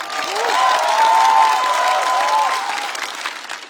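Studio audience on a Chinese TV roast show breaks into sustained applause with some cheering, loud and steady before gradually tapering off.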